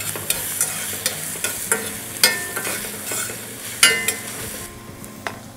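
Ingredients sautéing in a pan for a spicy ramen peanut butter sauce: a steady sizzle with repeated sharp scrapes and knocks as the mixture is stirred, close up and with no talking.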